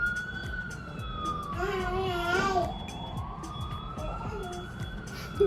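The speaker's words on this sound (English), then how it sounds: "It's like all types of noises. Ambulance, a truck is backing up." A wailing siren sweeps up and down in the background over steady traffic rumble and distant chatter.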